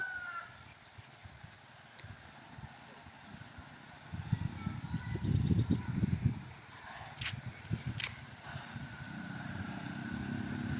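A Honda Click 125i motorcycle engine rumbles and swells as it passes nearby, its drone rising then fading, with faint voices and outdoor background noise.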